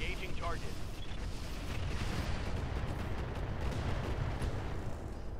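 Mech weapons firing at a target in Roguetech, a dense continuous barrage of booming blasts and rumbling impacts, loud and sustained across the whole stretch.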